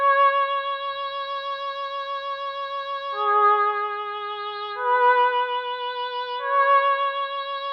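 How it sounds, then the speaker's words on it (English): Emoti Strings, a string synth patch from Analog Lab 5, plays a simple sustained melody of clean layered notes that change pitch in slow steps, alone with no voices. "we got a string sound from Analog Lab 5"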